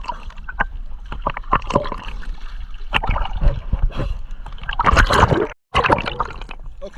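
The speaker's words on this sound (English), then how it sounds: "Waves." Choppy sea at Lamai Beach on Koh Samui, Thailand, as a storm approaches: churning surf and splashing water sound close and continuous, with a brief dropout of sound near the end.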